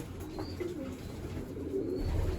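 A pigeon gives soft, faint cooing calls, two short low coos against quiet background hiss.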